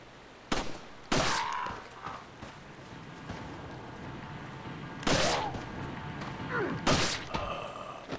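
Gunfire in the video game Resident Evil 4, a few sharp loud shots spaced several seconds apart over a steady game background, with thuds and footsteps between them.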